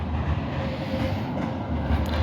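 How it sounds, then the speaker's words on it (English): A tram rolls past on a German street, giving a steady low rumble and grinding hum that stays constant across a couple of seconds, with no speech over it. "so those are the trams and those are the S trams"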